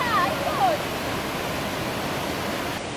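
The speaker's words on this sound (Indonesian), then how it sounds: "air terjun Luhandoi dan kita bisa saksikan bersama" A steady rushing wash of falling water from the Luaha Ndroi waterfall in North Nias, Indonesia, fills the clip, broad and constant, with a couple of faint high chirps early on.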